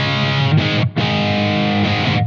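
Electric guitar through a Blackstar AMPED-1 100-watt pedalboard amp on its UK voice, playing sustained distorted chords with gritty breakup, with one brief gap between strums, loud and alone.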